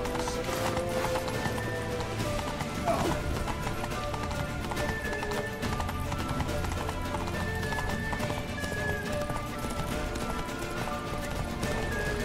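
Horse hooves gallop steadily in The Witcher 3, a dense continuous clip-clop under game music and ambience, with voices briefly heard over the ride.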